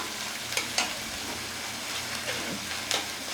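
Ginger paste fries in a pan for fish curry, giving a steady low sizzle with a few soft stirring scrapes on top, close and moderately quiet, with no talking.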